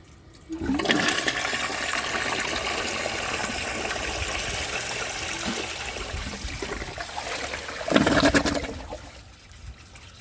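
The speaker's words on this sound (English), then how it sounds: "That was just 1 flush and a partial flush." A 1902 Fleck Bros. Victor toilet gives one full flush with a loud, steady rush of water lasting several seconds. A surging gush follows near the end, then the water fades to a quieter trickle.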